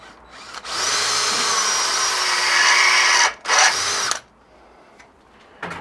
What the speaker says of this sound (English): This is an 1/8 drill.